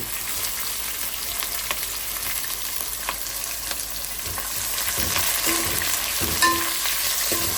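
Chopped onions fry in oil in a pan for a spinach mutton curry, giving a steady close sizzle with occasional scrapes and stirs that grow slightly louder toward the end.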